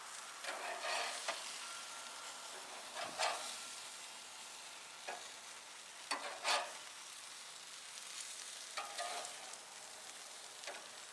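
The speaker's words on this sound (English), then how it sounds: "It's now time to turn the hamburgers over." Pimento cheese hamburgers sizzle steadily in a hot pan, a fairly quiet continuous hiss broken by several short spatula scrapes and pops as the patties are turned over.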